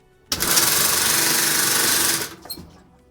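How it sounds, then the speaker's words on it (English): A faulty water pump in a Maytag Insignia washer starts with a loud, harsh buzzing grind that holds steady for about two seconds, then cuts off with a brief rattle. "this is gonna be a short video about Maytag Insignia washer. It's making noise when I turn it on like this."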